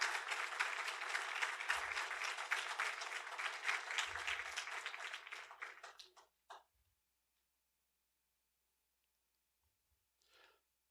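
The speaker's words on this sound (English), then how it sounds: "So please join me with a round of applause to thank them for their partnership." An audience at an evening architecture lecture claps loudly for about six seconds before the applause dies away into near silence, followed by a few faint clicks and a brief soft rustle.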